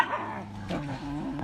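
Dogs just released from cages on a rescue truck whimper and yip nearby, a short strained, whining cry over a busy background.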